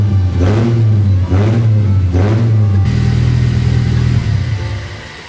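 A car engine fitted with a loud aftermarket exhaust revs hard several times in quick rising bursts, then settles into a deep, steady rumble close to the microphone.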